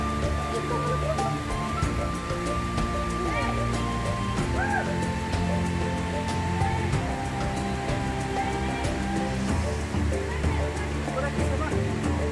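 A waterfall at San Isidro near Macas, Ecuador gives off a steady, close rushing roar that fills the whole stretch without a break, with faint tonal sounds mixed beneath the spray.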